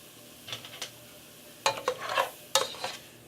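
Broccoli cooking in plenty of butter in a hot pot for chicken broccoli pasta, heard as brief stirring scrapes and soft sizzling bursts in a few separate clusters, close and fairly quiet.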